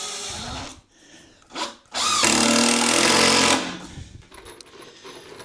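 Power drill driving screws into a wooden stair ladder for a tiny house, heard close in short whirring bursts and then one long sustained run of about two seconds that slows and stops.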